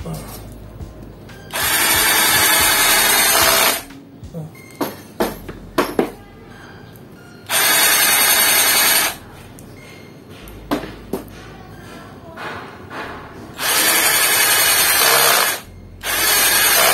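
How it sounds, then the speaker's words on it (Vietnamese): A power drill fitted with a Taro HSS titanium M10 bit bores into wood in three long bursts, loud and close, with clattering handling noises and brief pauses between runs. "Cái này thì khoan gỗ chứ là ngon lành rồi."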